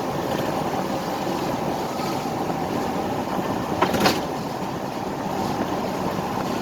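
Steady, loud road and wind roar from a one-ton vehicle towing a loaded trailer at speed, continuous throughout with a brief rattle near the middle and no talking.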